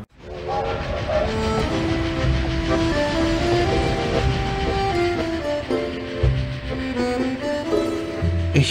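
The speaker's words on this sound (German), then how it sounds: "nahm den Zug nach Bukarest, dann nach Konstantinopel" A train rolls steadily along in the video game Dracula 3: Path of the Dragon, a continuous rumbling ride with tonal whistle-like hums layered on top, loud and unbroken, with no talking.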